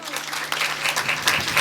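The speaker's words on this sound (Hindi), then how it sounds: "ताली बजाओ।" Audience clapping breaks out at a Ramdev Baba temple fair gathering, a close burst of mixed claps with murmuring voices and crowd noise.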